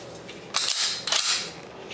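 A Sig Sauer P226 MK25 9mm pistol with threaded barrel dry fires on inert snap caps: two sharp, close mechanical clicks about half a second apart, each with a short bright snap, with no voices.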